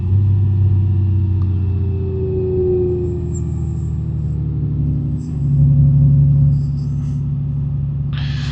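A Honda Gold Wing six-cylinder motorcycle rumbles close and loud as it rides off the throughway, its smooth engine drone shifting pitch as it leans, eases off and builds again, with steady wind noise.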